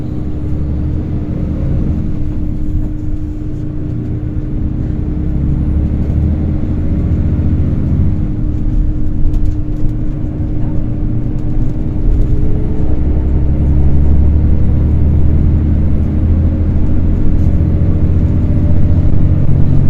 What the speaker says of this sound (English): Here is the sound of one accelerating.